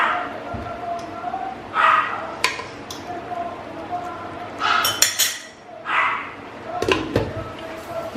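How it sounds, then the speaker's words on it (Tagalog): A dog barks and yips in several short bursts scattered through the clip, close by, with people talking over and between the barks and a few light clinks in the background. "Si Sky, pag nagsasalita ako, tumatahol."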